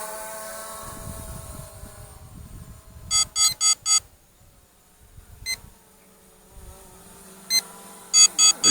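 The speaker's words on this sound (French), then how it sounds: "Low battery, donc là c'est l'application qui bug, qui bip comme ça" A LEAD HONOR LHX46G drone's phone app sounds low-battery warning beeps, a quick burst of four and then a later cluster, over the drone's steady high buzzing whine.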